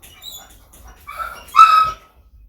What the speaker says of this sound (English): What's your deal, dog?